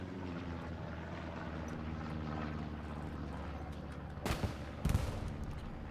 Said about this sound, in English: Recon plane coming in.